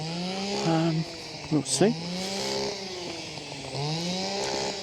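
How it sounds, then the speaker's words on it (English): A string trimmer running outdoors at the RSPB Leighton Moss nature reserve, a continuous buzzing whine that rises and falls in pitch as it revs, audible under someone talking nearby. "I know it's a strimmer"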